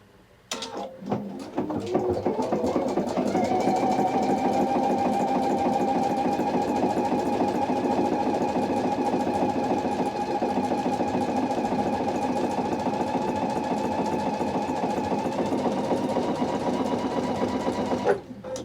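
A PFAFF embroidery sewing machine stitches a leaf pattern with a close, steady whirring hum and rhythmic needle chatter that holds continuously for most of the run before stopping.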